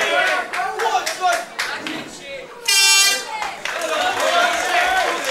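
A crowd roars and cheers at an MMA fight, a broad swelling noise under continuous commentary, with a loud air horn blast partway through and scattered clapping.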